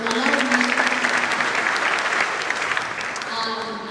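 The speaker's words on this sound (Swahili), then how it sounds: "Mpigieni makofi" Crowd applause at a motivational speech at Mount Kenya University: dense, steady clapping that fills all four seconds at a fairly even level, fading slightly toward the end.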